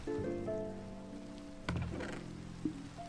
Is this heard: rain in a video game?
yes